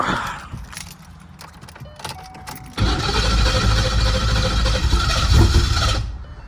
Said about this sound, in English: Let's see how many times it takes to start this thing up.